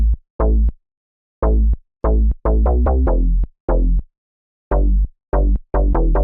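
Bass Tigers sample from the Driller plugin for trap and drill production, deep punchy bass hits played in a syncopated pattern with short gaps of silence between notes, loud and dry.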